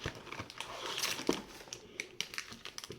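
Oreo wafer stick packaging being opened, with close crinkling and crackling plastic in irregular bursts and a few sharp taps, nearby and moderately loud.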